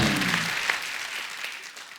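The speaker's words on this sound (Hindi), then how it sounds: "उसके लिए जोरदार तालियां" A studio audience at a comedy show applauds, a brief burst of clapping that starts fairly loud and fades over two seconds.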